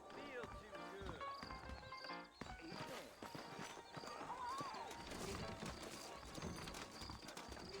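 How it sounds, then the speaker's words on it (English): Saddled horses clip-clop steadily in the western video game Red Dead Redemption, hoofbeats mixed with whinnies and a busy game soundscape, continuous through the whole stretch. "I got the horses saddled up and ready out front."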